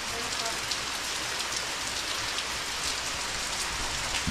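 Heavy rain pours down during a storm while people are out fishing for tilapia, a dense, loud hiss of drops pattering on surfaces that continues without pause.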